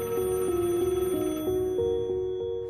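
A telephone bell rings in a steady rapid trill, loud and close, with repeated ring bursts and no voices.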